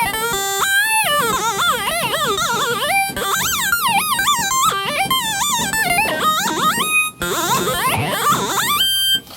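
A pure pulse patch on the UVI Workstation software synthesizer plays a run of bright, buzzy notes with swooping pitch bends, in several loud phrases separated by brief gaps.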